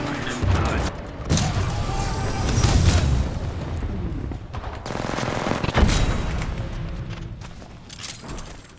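Heavy gunfire in a video game, with Kraber sniper rifle shots booming amid bursts of other weapons, clanking mechanical effects and sharp impacts, loud and dense throughout.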